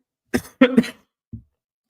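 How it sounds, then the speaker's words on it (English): A few sharp coughs close up, two quick bursts followed by a softer single cough after a short pause, in an otherwise quiet room. "oh, I got a cough."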